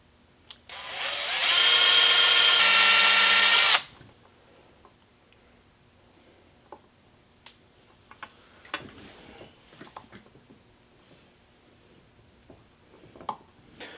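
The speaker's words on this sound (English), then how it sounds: "Now we're done with the drilling" A loud, steady high-pitched drill whine runs for a couple of seconds near the start as a rivet is drilled out, then stops, followed by quiet scattered clicks and small handling taps.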